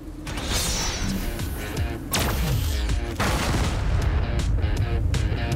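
A cartoon Brachiosaurus fires a seed cannon bomb in a Dino Trainers battle scene. The result is a loud, dense barrage of booming blasts and mechanical clanks that stays intense throughout.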